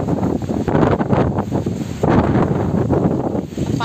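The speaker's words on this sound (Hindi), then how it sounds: "देखिए आज हम लोग इधर पूरा हवा दे रहा है बहुत ज्यादा।" Strong wind blows through a village where tamarind trees are bending, roaring and buffeting the microphone in loud, uneven gusts with no talking.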